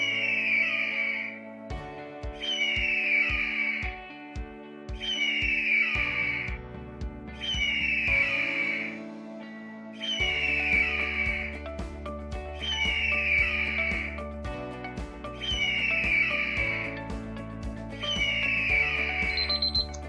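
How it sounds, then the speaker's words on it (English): An eagle gives a series of high, piercing screeching calls in a steady repeating rhythm, each a short burst, over a continuous background of music. "That's the sound of an eagle."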